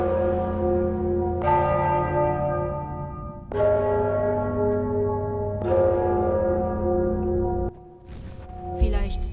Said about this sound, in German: Ganz gleich, wie sehr ihr es versucht, die Glocke bewegt sich kaum.